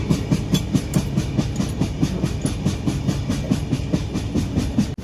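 The Vivek Express, train 22504 running from Dibrugarh to Kanyakumari, rolls along with a steady, close clickety-clack of wheels over rail joints in an even rhythm, heard from on board.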